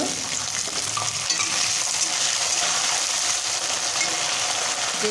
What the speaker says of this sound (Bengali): এবার আমি এর মধ্যে মটরশুঁটি আর কাঁচা লঙ্কা দেব।